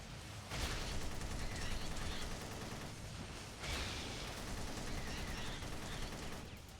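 Rapid continuous gunfire in the video game Ninja Gaiden Sigma 2 comes as dense, loud bursts of shooting, with a short lull around the middle before the firing resumes at full intensity. No one speaks.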